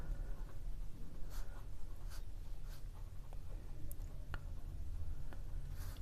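A pen writing an answer on paper, with soft close scratching strokes and occasional taps over a steady low hum.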